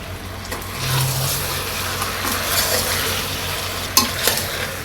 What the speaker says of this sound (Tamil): இப்போ சிக்கன் சேர்த்து வதக்கிக்கலாம்.